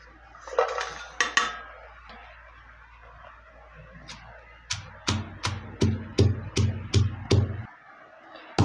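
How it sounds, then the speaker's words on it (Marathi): Green chillies are pounded in a stone mortar and pestle: after a few scattered clinks and clatters, about nine heavy, evenly spaced thuds come close and loud, then stop abruptly. "म्हणून मी खलबत्त्यातच कुटणार आहे त्याला"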